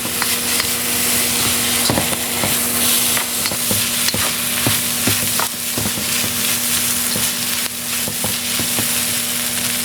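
Five spice powder being stirred into food frying in a hot pan: a steady, loud sizzle with scraping utensil strokes repeating throughout, and no voices.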